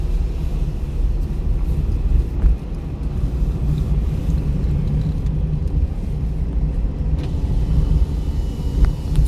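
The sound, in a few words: car engine during a driving lesson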